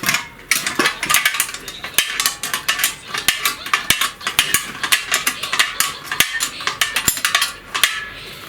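Metallic ratcheting and rattling mechanism sounds while unfastening the fuel tank of an old 1990s MTZ Belarus walk-behind tractor, continuous close clicking with sharp taps scattered throughout.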